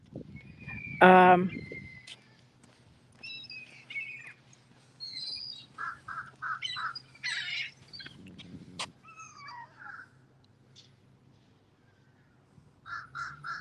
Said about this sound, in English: now there's two crows fighting